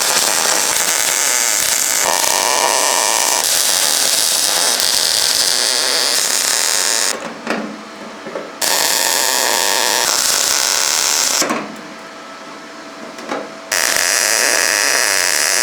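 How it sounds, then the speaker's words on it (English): A repair panel being welded into the scuttle of a Ford Fiesta XR2, a loud, harsh, continuous buzzing crackle of welding in long bursts, with two brief pauses where it drops to a low background hum before resuming. "Right, that panel is welded in."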